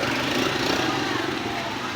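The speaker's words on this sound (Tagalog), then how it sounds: "This is our motor." A motorbike engine runs steadily and fairly loud throughout, a broadband motor drone with a low rumble, while people chatter in the background.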